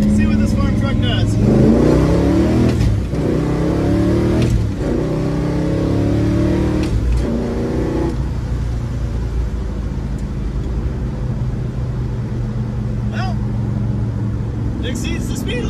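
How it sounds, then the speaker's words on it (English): A farm truck loaded with extra ballast accelerates hard, its engine revving through several rising pulls with gear changes before settling into a steady cruising drone, close and loud, with someone talking over it. "Let's see what this farm truck does."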